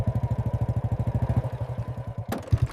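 A motorcycle engine thuds in a steady, rapid low putter close by, its pulses slowing slightly before a sharp clunk and a few uneven beats near the end.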